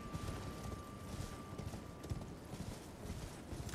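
Horse hooves clip-clop at a steady galloping rhythm while riding in Elden Ring, quiet and fairly close, with a faint constant tone and soft ambient noise underneath.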